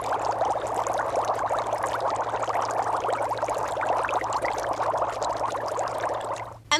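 Breath blown through a tube into a jar of water makes a continuous, close bubbling and gurgling that runs steadily for several seconds before stopping abruptly.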